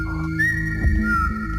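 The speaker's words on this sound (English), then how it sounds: "whistling in the basement." A thin, sustained whistle drifts through a basement, a single high tone that bends upward and holds over a low background hum, with no voices.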